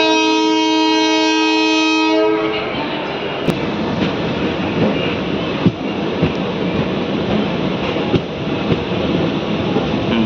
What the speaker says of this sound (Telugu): మంత్రాలయంకి మన ట్రైన్ చేరుకుంది 5 నిమిషాలు ఆలస్యంగా.